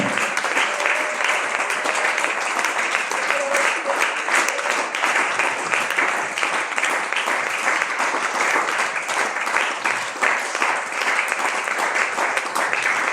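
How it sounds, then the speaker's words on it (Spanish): Church congregation giving sustained, loud applause during a Spanish-language service, dense clapping continuing evenly from start to finish. "Yo creo que se merece un mejor aplauso"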